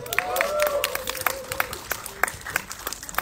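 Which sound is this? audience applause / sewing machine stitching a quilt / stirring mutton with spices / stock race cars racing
audience applause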